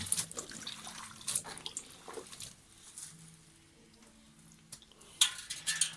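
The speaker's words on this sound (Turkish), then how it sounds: "Üzerindeki tortuyu almak. Yıkamak zeytinimizi." Olives being rinsed in water to remove sediment give soft, intermittent splashing and trickling, with sloshes and brief sharper splashes rising and fading, moderately close and fairly quiet.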